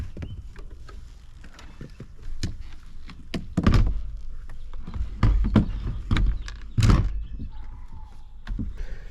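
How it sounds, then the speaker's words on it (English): A trolling motor being mounted onto a boat: a series of hollow thunks, knocks and metallic clanks at an irregular pace, several louder heavy bumps in the middle, close by with no speech. "let's go ahead and just mount this trolling motor up"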